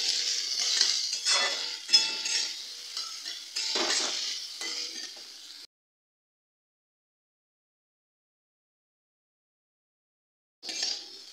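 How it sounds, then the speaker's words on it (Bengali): Apple pieces, peel still on, frying and being stirred in a pan, soft sizzling with scraping and utensil clinks for several seconds, then silence before the stirring briefly resumes. "এবার আমি আপেলটাকে একটুখানি ফ্রাই করে নেব।"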